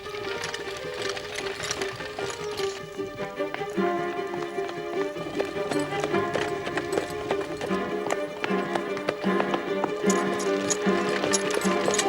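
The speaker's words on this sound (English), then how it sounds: "Stop that horse." A carriage horse's hooves clip-clop in a steady galloping rhythm at moderate loudness, running continuously for about twelve seconds beneath a busy musical or ambient bed.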